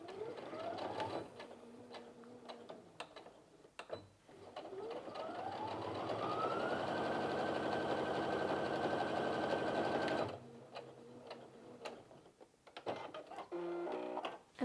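A Brother Innov-is F560 sewing machine stitches through two layers of standard-weight denim, starting with short bursts, then ramping up into a long, steady high-speed run that stops abruptly, followed by a few brief stitching spurts.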